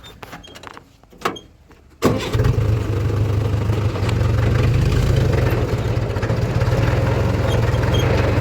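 A tractor engine catches after a few soft knocks and then settles into a loud, steady low rumble that holds to the end.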